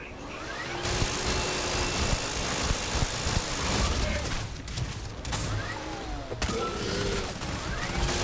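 Bursts of gunfire in Starfield, rapid shots crackling over a steady engine-like hum, with dense volleys near the middle and end, fairly loud and close.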